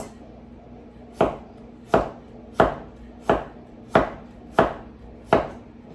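A knife thinly slices vegetables for pozole on a cutting board, seven sharp, evenly spaced chops about every two-thirds of a second, close and crisp over a low steady hum.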